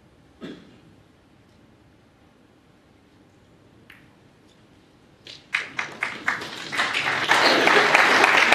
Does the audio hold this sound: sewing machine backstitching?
no